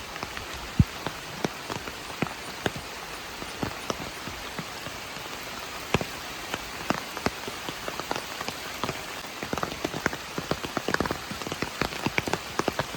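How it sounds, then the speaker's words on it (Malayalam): Rain patters on an umbrella along a quiet village path through forest in Idukki, with dense, irregular drops tapping sharply and continuously close by, and no voices. "മഴ പെയ്യുന്നുണ്ടേ അതുകൊണ്ട് ഒരു സൗണ്ട് കുടയുടെ മുകളിൽ വെള്ളം വീഴുമ്പോൾ പടപട പടപട"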